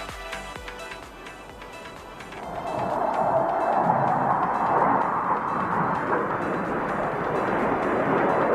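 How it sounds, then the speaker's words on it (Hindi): Aerobatic team jets at the Bengaluru air show flying toward the crowd, a loud roaring engine rush that swells after a few seconds and holds steady, with crowd-side noise beneath. "आप देखेंगे इन विमानों को एक साथ आपकी ओर बढ़ते हुए।"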